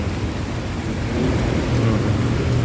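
Steady heavy rain pours down on flooded Taft Avenue with a low rumble of thunder underneath, dense and continuous throughout.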